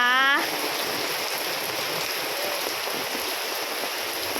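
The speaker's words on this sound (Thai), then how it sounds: "ฝนตก มืดฟ้ามัวดินเลยค่ะตกชุ่มฉ่ำชุ่มฉ่ำเลยนะคะ" Heavy rain pours down in a dense, steady hiss that holds without a break after a brief higher sound at the start.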